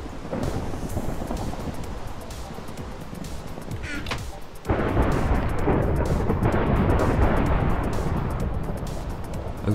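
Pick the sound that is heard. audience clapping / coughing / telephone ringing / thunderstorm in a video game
thunderstorm in a video game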